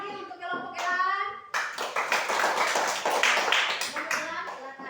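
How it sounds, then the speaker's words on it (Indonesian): A group of children claps for a classroom team, the steady applause coming in after a few words from an adult and continuing under talk. "Berikan tepuk tangan lagi untuk kelompok elang."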